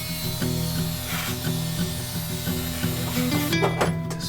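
A fine-toothed saw cuts a part on a large boat project, with a steady rhythmic rasping stroke about twice per second, close and fairly loud with no talk.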